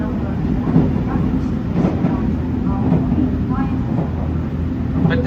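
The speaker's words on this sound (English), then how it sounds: "this train does the run along the Sea of Japan" A Japanese scenic train running along the Sea of Japan between Akita and Aomori rumbles steadily from inside the carriage, with soft rhythmic track clatter and faint voices in the background.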